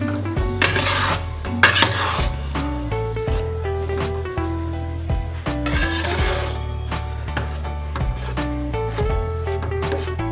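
Mashed potato filling for aloo paratha stirred in a pan over a low flame, repeated scraping and knocking of a spoon against the metal with a faint sizzle, close and rhythmic.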